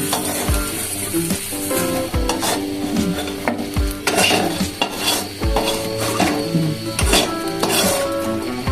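Pabda fish fries in oil, a close sizzle punctuated by rhythmic metallic scrapes and clinks of a spatula against the pan as pieces are turned and lifted out.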